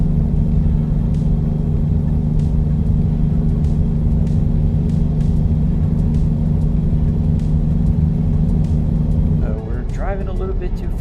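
A car in a driving simulator game cruises at nearly 80 miles an hour, its steady loud engine and road rumble droning evenly, then easing off near the end as a voice begins to talk.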